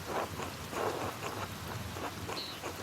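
Steady rain falls in the video game Pentiment, a continuous soft hiss of drops with some low rumbling beneath, even and unbroken with no voices.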